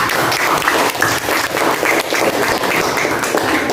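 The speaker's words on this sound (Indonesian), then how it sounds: "Ya, baik, tepuk tangan untuk Rizal dan Aldo juga." Students in a classroom clap together in a steady, dense burst of applause, close and fairly loud, continuing for several seconds with no speech over it.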